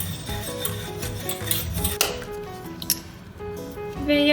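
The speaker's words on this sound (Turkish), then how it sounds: "Kakao, mısır nişastası şey ve unu şekeri ekleyip karıştırıyorum." Dry cocoa, corn starch, flour and sugar being stirred in a pot, producing scraping, clinking and rubbing noises of a utensil against the metal, close and fairly loud, with irregular knocks and no speech.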